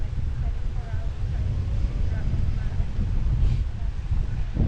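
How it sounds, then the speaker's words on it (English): Wind buffets the microphone in a continuous low rumble on a beach in Clearwater, Florida, with a voice talking faintly underneath. "It's a little windy out here today too."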